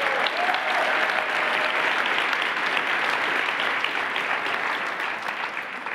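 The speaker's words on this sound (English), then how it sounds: "please give yourselves a big round of applause" Sustained audience applause at a foundation gathering, dense steady clapping from a large crowd that holds for several seconds and tapers slightly at the end.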